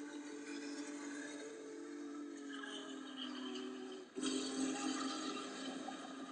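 Steam train playing back through a projector's speaker, heard as a continuous rumble with a sustained whistle tone. The whistle shifts and then sounds louder and brighter partway through, alone with no talk.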